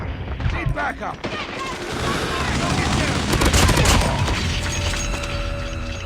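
Automatic weapon fire in a video game rattles out in loud, continuous rapid bursts with heavy booms mixed in, close and dense from start to finish, with a faint voice underneath.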